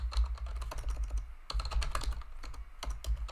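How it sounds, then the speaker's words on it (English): Rapid, steady keystrokes on a computer keyboard while a formula is entered in Tableau, heard close and continuous with short pauses between runs of typing. "I'm gonna write if region equals south"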